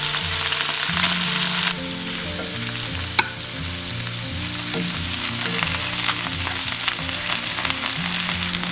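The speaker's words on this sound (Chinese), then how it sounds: "接着下入鸭肉，尽量皮朝下，" Duck pieces laid skin side down in a pan over medium-low heat sizzle and crackle steadily, a dense continuous frying hiss with a single sharp pop partway through, close and loud, with no talking.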